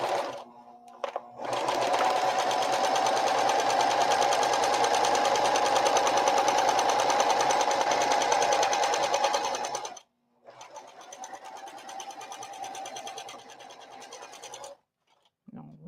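A sewing machine stitches across the bottom of a fabric tote bag in two long, fast, steady runs, the first about eight seconds and the second shorter after a brief pause, close and clear.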